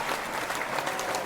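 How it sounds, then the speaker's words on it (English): Studio audience applause for a talk show guest, a dense wash of clapping hands, steady and fairly loud throughout. "here's your fabulous applause"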